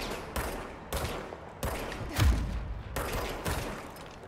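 Repeated bursts of automatic gunfire in the video game Control, about seven loud, close volleys in quick succession with brief gaps between them.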